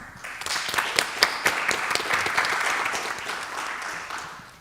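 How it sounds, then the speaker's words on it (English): Audience applause for the candidates at a school meet-the-candidates evening, a steady burst of many hands clapping that builds quickly and then slowly tapers off, with no talk over it. "Let's give a round of applause to all the candidates tonight."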